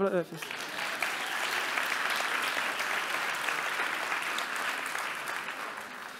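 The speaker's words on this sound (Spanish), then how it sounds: "Un aplauso, ¿no?" Steady, dense applause from an audience at a science talk, fairly quiet and even, lasting throughout without breaks.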